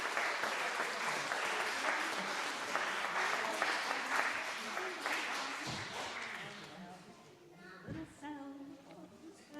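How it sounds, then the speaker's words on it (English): A church congregation applauds new members joining on New Member Sunday: steady dense clapping fills most of the stretch, then thins and fades as a voice begins speaking near the end. "Let's give them a round of applause as they join us."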